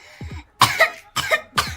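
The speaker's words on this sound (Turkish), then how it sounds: "Öksür bakalım." Three sharp coughs in a row, close and fairly loud, each a short harsh burst with pauses between; a faint voice sound comes just before.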